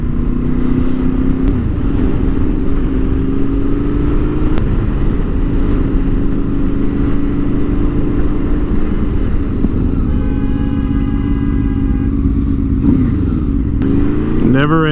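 Honda VFR V4 motorcycle with a flapper mod, test ridden on the road, gives a steady, loud engine drone that rises and falls with throttle throughout, with a rider's voice talking over it near the end.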